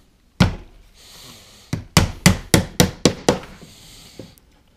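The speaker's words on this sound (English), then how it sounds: "tilt the frame a little bit to the side, and basically tap it to the slight angle there, and carefully hammer" A hammer taps a spur embedder, pressing wires into a beeswax foundation sheet in a deep beekeeping frame: one sharp knock, a pause, then a quick run of six or seven crisp, evenly spaced taps, close and loud.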